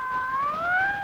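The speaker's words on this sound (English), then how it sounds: "It's an ambulance, that's all." A wailing ambulance siren from a 1933 film rises slowly in pitch across a second, a steady, fairly loud tone standing alone without speech.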